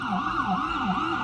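An ambulance siren wails steadily on a New York City street, rising and falling in a fast repeating sweep, loud and close, with traffic rumble underneath.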